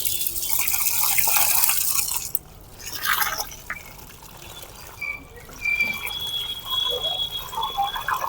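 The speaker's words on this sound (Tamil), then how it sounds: "முதல் முறை நம்ம தண்ணி ஊற்றுறோம் ஃப்ரெண்ட்ஸ்." Water poured from a container onto a potted hibiscus plant, a close splashing trickle and dribble that pauses and resumes, with soft drips into soil; no talking.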